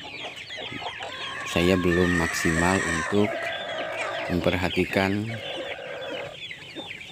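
Free-range village chickens clucking on a farm, several birds calling in bursts close by over a busy background, with someone talking at the same time.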